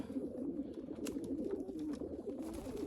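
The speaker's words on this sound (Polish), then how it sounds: "Na pewno są to czyste, jak mówiłem, gołębie Jansen de Klak" Jansen de Klak breeding cock pigeons coo in a loft, soft repeated throaty coos overlapping in a low, continuous murmur, close but quiet.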